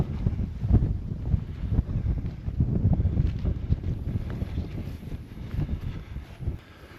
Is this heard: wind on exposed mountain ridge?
yes